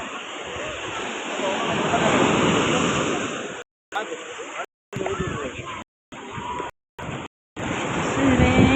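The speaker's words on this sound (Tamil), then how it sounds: "அலை எங்களை எவ்வளோ தேடி வருது பார்த்தியா" Ocean waves breaking on Thiruchendur beach, a broad continuous roar of surf and wind with the sound cutting out in several short gaps.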